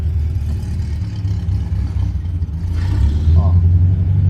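A cold VW Fusca with a 1900 engine and variable venturi carburetor idles with a low, pulsing rumble close by, then the revs rise slightly and grow louder toward the end while someone talks over it.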